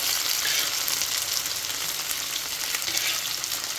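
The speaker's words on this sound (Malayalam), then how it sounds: "ഈ പീസ് നല്ല ചൂടുള്ള എണ്ണയിലേക്കാണ് ഞാൻ ഇട്ട് കൊടുത്തിരിക്കുന്നത്" Chicken pieces for a special chicken fry sizzle steadily in very hot oil, a dense, loud, continuous crackle that holds at an even level from start to finish with no voices.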